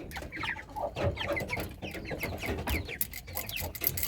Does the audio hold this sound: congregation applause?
no